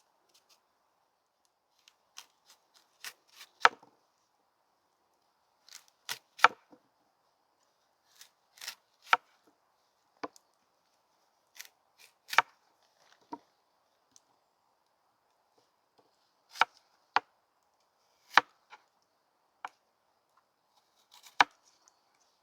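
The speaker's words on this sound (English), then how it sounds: "I'm going to try and peel this thing the best I can." Food being peeled by hand: about a dozen sharp, dry scraping strokes come in uneven clusters with quiet pauses between them, close and fairly soft.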